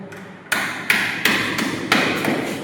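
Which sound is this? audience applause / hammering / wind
hammering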